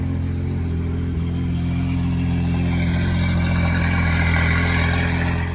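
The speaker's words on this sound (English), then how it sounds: "I'm gonna give it a couple revs so you guys can hear what it sounds like." A Lamborghini Aventador SV engine idles outdoors with a deep, steady rumble, then its revs rise gradually toward the end, loud and close.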